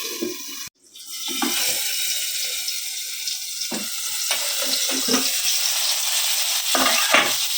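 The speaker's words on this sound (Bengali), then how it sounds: "বেগুনটা আমি ভেজে নিচ্ছি" Salted, turmeric-dusted eggplant pieces fry in a pan, an abrupt sharp crackle as they hit the hot oil, then a sustained close sizzle with a few spatula scrapes and clinks, and no speech.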